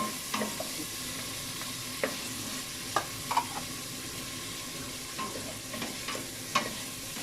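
Hotdog pieces sautéing with garlic and onion in a pan for sopas, a steady soft sizzle broken by repeated clinks and scrapes of a utensil stirring.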